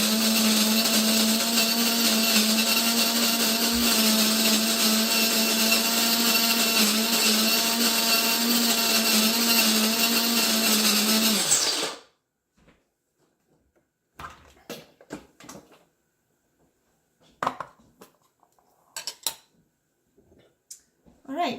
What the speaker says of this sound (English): So I bought a conical style of grinder. It's really loud